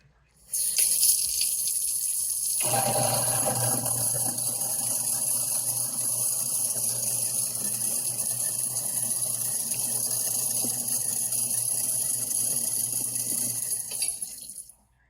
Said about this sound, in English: that was the sound of my garbage disposal grinding up limes